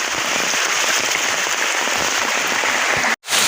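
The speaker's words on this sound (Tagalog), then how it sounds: "ang lakas-lakas ng ulan dito" Heavy rain pours down in the rural countryside during a fishing outing, a loud, dense and steady hiss of drops that is briefly cut off near the end.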